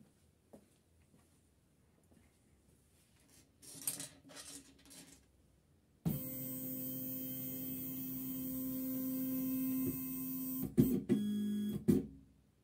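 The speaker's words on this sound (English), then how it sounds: "I will turn on the key and the laser will go in a 0 position" An AlgoLaser Alpha 10W laser cutter homing to its zero position gives a steady motor whine with a tonal hum that sets in abruptly and runs several seconds. A few sharp clicks and short movements come before it, and brief bursts follow at the end.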